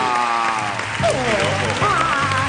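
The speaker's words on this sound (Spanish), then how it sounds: "Un aplauso muy fuerte para Chicho Ibáñez Serrador" A television studio audience applauds steadily while a voice speaks and exclaims emotionally over the clapping, the applause forming a continuous bed beneath the talk.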